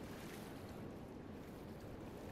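Water waves wash continuously in an open water area of the video game Shadow of the Colossus, a constant, faint, wind-like roar with no talking.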